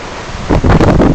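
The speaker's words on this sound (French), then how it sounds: "On a notre vent." A 2008 Bavaria 30 cruiser sails at sea. Wind buffets loudly and close, rising into rough gusts over about a second.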